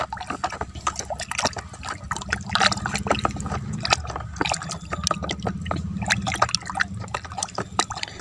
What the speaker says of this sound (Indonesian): Kemudian ini kita larutkan di sini dan kita aduk.